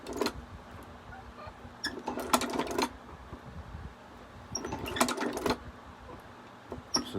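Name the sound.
leather shoe patcher sewing machine stitching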